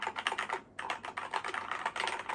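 Rapid, close typing on a Keychron K4 v2 mechanical keyboard, a steady stream of crisp clicking keystrokes with one brief pause partway through.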